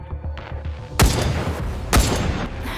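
Rapid gunfire bursts from the Nikke: Goddess of Victory video game, a dense loud fusillade with two heavy booming impacts about a second apart, all without speech.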